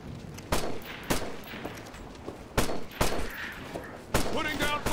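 Rifle fire in the Operation Flashpoint Red River video game: about half a dozen loud, sharp shots crack out at uneven intervals over a continuous low battlefield rumble.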